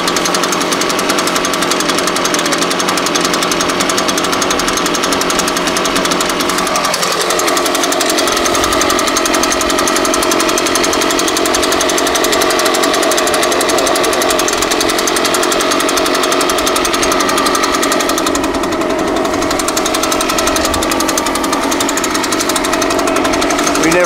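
An Echo PB-580T backpack leaf blower's two-stroke engine runs steadily after a pull start, a loud, close, raspy drone with a rough knocking edge that holds throughout with slight shifts in pitch.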